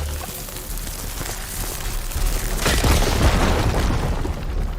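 A firegleam deposit blows up in Horizon Forbidden West, a loud, sustained rumbling boom with crackling debris and a roaring burst that swells midway and lingers.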